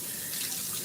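A kitchen or bathroom tap runs steadily as something is rinsed under it, giving a continuous close splashing hiss with no voices.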